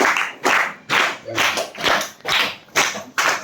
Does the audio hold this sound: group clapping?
yes